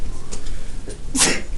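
A single sharp sneeze in a classroom during a math lesson, sudden and close, bursting out near the end of a brief stretch of quiet room noise.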